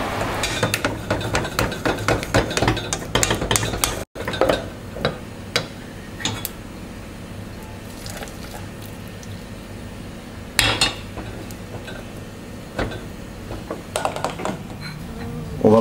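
A spatula stirring melted chocolate and cream in a bowl gives soft scraping and intermittent light clinks against the bowl, steady and close, with no talking.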